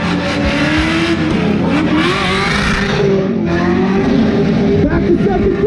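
Car engine revving hard on the exhaust at the SEMA show in Las Vegas, with rising and falling pitch, tire squeal and a loud crowd throughout, a continuous roar close to the listener.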